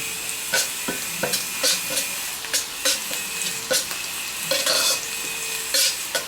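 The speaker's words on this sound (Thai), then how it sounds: "เดี๋ยวเอามาทำไส้มาผัดกันเลย" Cooked bean filling is stir-fried in a pan, with rhythmic scraping strokes of a utensil over a steady close sizzle and no voices.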